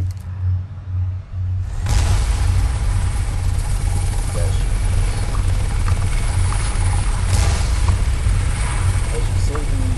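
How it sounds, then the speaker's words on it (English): A video game helicopter in CryEngine 3 Sandbox flies while following a car, its rotor and engine droning loudly and steadily after a quiet start, with a low thumping hum throughout. "the helicopter now following the car."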